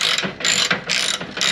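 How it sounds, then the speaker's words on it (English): Ratchet turning out the last Torx bolt of an Audi TT Mk1 3.2 V6 engine undertray: loud, close, repeated clicking strokes in a steady rhythm of about four pulls. "So this is the last bolt coming out now."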